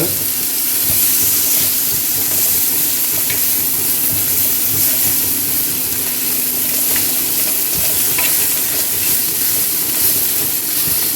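Lamb chops fry in a pan with mustard oil, sending up a loud, continuous sizzle and hiss, with soft scrapes and stirring noises as the chops are flipped.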